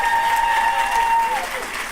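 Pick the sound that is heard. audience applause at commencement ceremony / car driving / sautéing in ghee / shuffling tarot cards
audience applause at commencement ceremony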